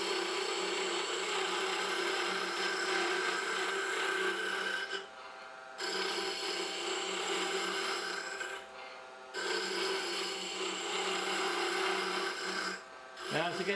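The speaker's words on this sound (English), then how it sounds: "I'm planing that wood off much like I would with a skew" A spindle gouge planes down a thin wood spindle spinning on a lathe, producing a loud continuous whirring scrape close up, broken by three short pauses as the tool lifts off the wood.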